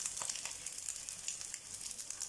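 Egg 65 pieces frying in hot oil give off a steady, close, hissing sizzle with faint crackles and no voices.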